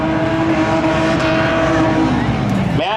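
A 1978 Chevy Camaro nicknamed the Red Dragon races at a spectator drag event on a speedway, its engine a loud sustained roar with a rising pitch, while an announcer talks over it.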